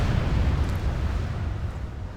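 Cannon and gun line fire in a Warhammer strategy video game, a dense rumbling roar of blasts and booms, loud and continuous over the short span.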